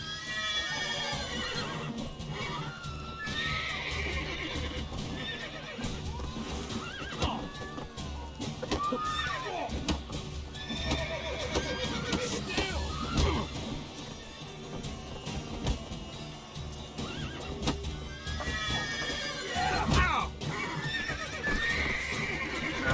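Horses whinny and neigh repeatedly in The Witcher video game, loud drawn-out calls rising and falling over a busy backdrop of clip-clopping hooves and other game sounds, with a final strong neigh near the end.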